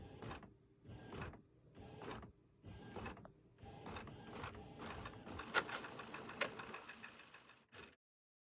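An inkjet printer prints a sheet of planner stickers, its print head carriage sweeping back and forth in a steady series of mechanical whirring passes, then settling into a continuous rattling feed before abruptly stopping; nearby and fairly quiet.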